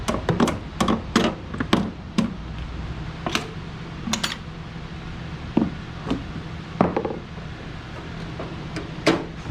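Irregular hammer taps, sharp and close, strike in a quick cluster and then at scattered intervals over a low steady hum, while installing Torklift Revolution Uprising RV steps.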